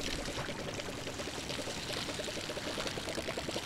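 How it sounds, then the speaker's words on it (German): Water streams steadily from a watering can onto crop fields in the farming video game Palia, a continuous close pouring splash with a faint rhythmic texture and no talking over it. "außerdem geht das ja auch recht schnell mit meiner Gießkanne"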